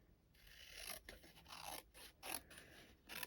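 Faint, close-up cutting sounds from craft snips working through cardstock for a papercraft card, a run of quick rasping cuts with short pauses between them.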